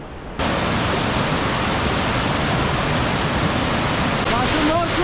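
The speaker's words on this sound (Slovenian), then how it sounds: "Kakšen nor slap." A large waterfall in Istria roars as a loud, steady broadband rush that starts abruptly and continues unbroken, with faint voices entering near the end.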